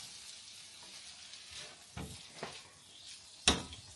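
Spaghetti sauce fries in a pan with a soft steady sizzle, broken by a few scraping stirs and a sharp clink of utensil against the pan near the end.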